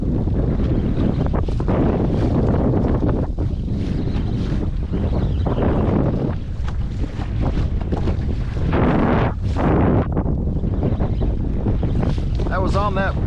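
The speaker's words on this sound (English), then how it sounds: "I can't turn this motor off because I got nothing to hold it with" An outboard motor runs continuously on a small Tracker Panfish 17 fishing boat out on open water, its steady drone mixed with heavy wind buffeting the microphone and light water noise throughout.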